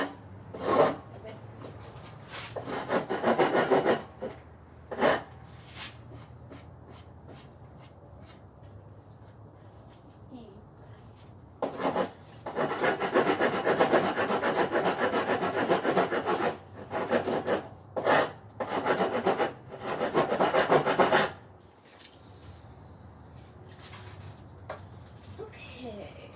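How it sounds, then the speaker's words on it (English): Wood being worked with a chisel while building a Viking A-frame tent: rasping, scraping strokes come in runs of rapid repeated scrapes with pauses between them, and people talk at times. "I need to teach you how to use the chisel first."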